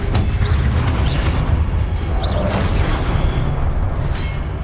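Loud, dense magical combat from Hogwarts Legacy, the Confringo blasting spell going off amid continuous rumbling bursts and whooshing crackles with a few rising whistling tones.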